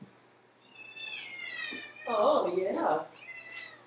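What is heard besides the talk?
pet cat meowing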